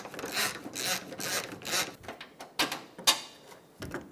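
Socket wrench turning out the top radiator bolts on a 2005-2015 Toyota Tacoma 2.7L, reached through the front bumper: close, bursts of rasping ratchet clicks, pausing and resuming.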